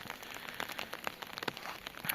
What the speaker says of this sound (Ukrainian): дощик.